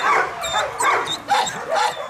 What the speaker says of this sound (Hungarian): Kutyaugatástól hangos a karmacsi Elizabeth menedék.